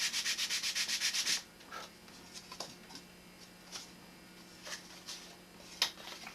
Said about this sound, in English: I like to constantly be moving the sandpaper on the block, so I'm not wearing out the corners